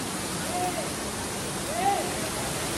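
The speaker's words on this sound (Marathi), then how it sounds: "चला तर आता आम्ही इथे खालच्या धबधब्यावरती आलोय." A hidden village waterfall pours steadily nearby, a dense continuous rush of water with a couple of faint high chirps above it.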